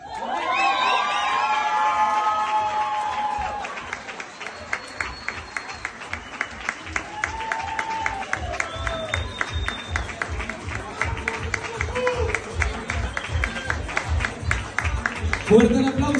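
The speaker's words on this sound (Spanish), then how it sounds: "Fuerte el aplauso para Bonnie, que se escuche." Crowd applause and cheering at a prize announcement for third place, with clapping starting dense and loud, then thinning into rhythmic, steady claps as voices shout and whistle over it.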